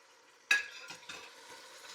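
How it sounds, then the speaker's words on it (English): A beef pot roast flipped in a pot lands with a sharp clank and sizzle, then searing crackles quietly with a few soft knocks of a utensil. "I'm just going to flip this, brown it on the other side."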